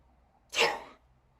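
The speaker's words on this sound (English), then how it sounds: "sorry about that sneezing in your ear" A single loud sneeze from one person, a sharp burst close to the microphone lasting about half a second, then quiet.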